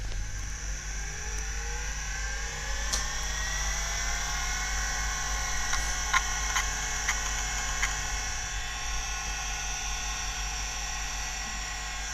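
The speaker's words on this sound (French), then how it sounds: "ce bruit c'est caractéristique du Quantum" A large Quantum hard disk drive spins up, its whine climbing in pitch over a steady low motor hum, with a few faint clicks along the way, close and continuous with no talking.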